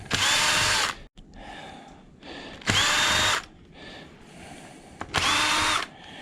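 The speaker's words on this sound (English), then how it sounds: "So what I use, a cordless drill, side cutters, a little crescent, a pair of vice grips." A cordless drill drives screws while a ceiling fan is taken apart, three loud whirring bursts of about a second each with quieter handling and clatter between them.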